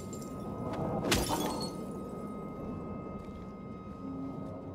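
A single loud smash of window glass in Silent Hill 2, a sharp broadband crash near one second followed by a short scatter of falling shards over a low ambient game drone.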